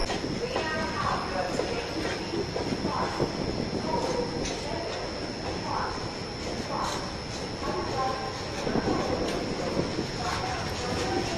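A Jan Shatabdi Express with ICS coaches runs from Haridwar in Uttarakhand at close to 100, heard from inside as a continuous rumbling roar with periodic rhythmic wheel clatter and a faint high whine.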